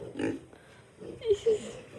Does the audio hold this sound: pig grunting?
yes